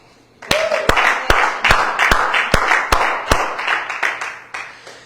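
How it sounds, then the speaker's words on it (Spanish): A church congregation applauds in response to a sermon on the gospel of Jesus Christ: a sustained round of clapping with a few sharp, louder claps standing out near the front, continuing steadily for several seconds. "Aplauda."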